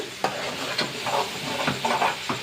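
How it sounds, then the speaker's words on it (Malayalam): Ground spice powders sautéing in a hot pan for an egg roast, a steady close sizzle broken by several scraping stirs, with no voices. "പൊടികളുടെ പച്ചമണമൊക്കെ മാറിയിട്ട് ഒന്ന് മൂത്ത് വരട്ടെ"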